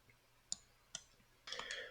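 Computer mouse buttons click twice in quick succession, crisp and close, during software work in a SAM business-mapping tool, followed by a brief denser burst of clicking.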